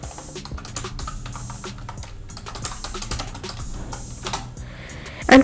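Fingers tap out text on a computer keyboard in quick, irregular bursts of close, crisp clicks. A louder clack lands near the end.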